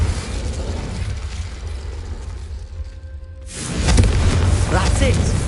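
A Confringo blast spell in a Harry Potter video game lands as a booming burst partway through, swelling into a rumbling fiery roar, with voices talking around it.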